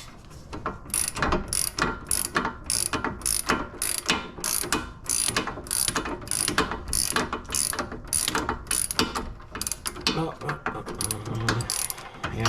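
Socket ratchet tightening a part on a 2008 Pontiac G8 with a bad shake, rapid rhythmic clicking in bursts of quick strokes, close and loud, continuing through the whole stretch.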